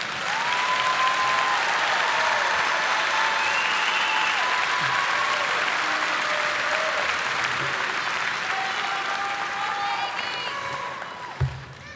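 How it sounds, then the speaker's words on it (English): Sustained applause from a large crowd fills a college commencement ceremony, steady and full, with cheers and voices woven through it before it fades near the end. "Let's give these graduates a round of applause."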